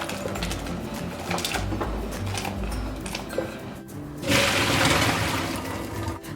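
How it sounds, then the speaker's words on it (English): Pot of potatoes, cauliflower and green beans bubbling in boiling water, a steady close churning hiss that swells louder near the end, with no talk over it. "I'm going to boil these until they're super,"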